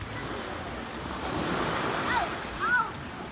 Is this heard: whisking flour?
no